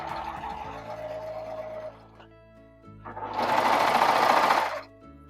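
A serger overlock sewing machine, its knife trimming the fabric edge while piecing a scrappy quilt block, hums along steadily, pauses briefly, then revs into a louder, faster whirring burst of stitching before stopping.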